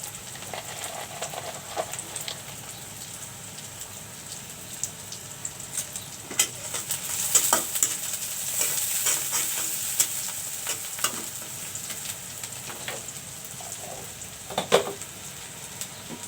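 Cinnamon fries in a pan for chicken curry with a soft, steady sizzle, broken by occasional scrapes and taps as it is stirred at close range.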